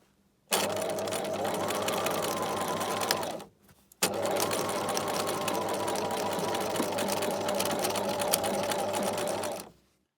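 Sewing machine stitching bias binding onto a blouse, two bursts of rapid steady whirring, the first about three seconds long, a short pause, then a longer six-second run, close and even.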